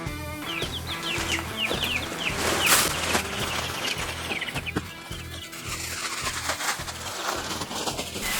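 Baby chicks chirp in a brooder bedded with pine shavings, a steady run of quick high peeps and clucking with a low rhythmic hum underneath, close and continuous.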